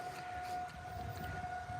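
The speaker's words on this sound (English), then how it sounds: "listen to that siren. It's the test siren on Tuesday" A civil defense warning siren sounding its weekly Tuesday test, heard as a steady, distant tone held throughout over low background noise.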